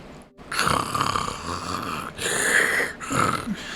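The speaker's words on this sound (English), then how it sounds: "There's just snores." A person snoring at night, three long rasping breaths in a row, close and fairly loud with brief pauses between.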